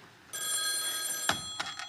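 Telephone bell ringing in a sitcom living room, a steady sustained electronic trill that starts abruptly and fills the room, followed by a few short thumps near the end, with no talking.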